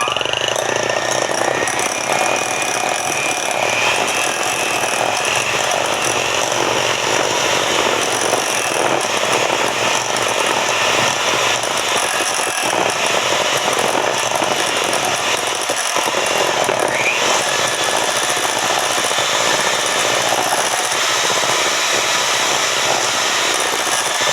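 A handheld electric mixer whirs continuously while creaming a mixture with butter, giving a loud, steady buzzing drone that lasts the whole stretch with no talking.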